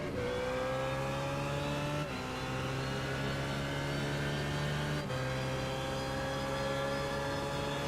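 Onboard race car lapping the Circuit of the Americas during a six-hour endurance race, engine droning steadily at high revs then easing off the throttle ahead of braking, with brief dips in pitch around two shifts; loud and continuous.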